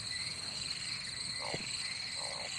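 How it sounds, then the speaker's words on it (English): Frogs croak in the video game Loveland, two short low croaks standing out faintly against a steady high ambient hum, with no voices. "The frog sound is getting way louder."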